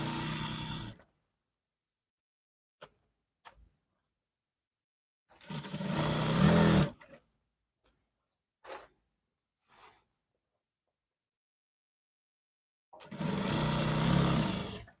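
Sewing machine stitching a bubu gown along its ironed crease line, in three loud bursts of running stitches of about one to two seconds each, separated by silence and a few small clicks.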